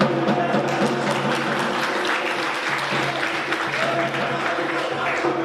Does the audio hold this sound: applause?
yes